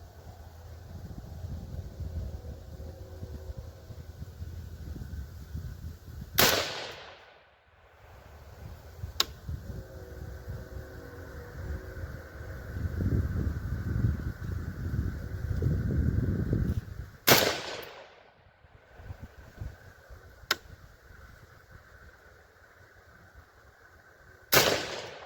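Rifle shots from a Del-Ton 20-inch rifle firing SIG 77 grain OTM rounds at a range: three sharp, loud cracks spaced roughly ten seconds apart, with a few fainter clicks and steady outdoor background noise between them.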